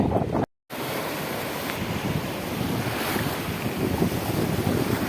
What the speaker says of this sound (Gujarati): આવા મોજા ભાંગે છે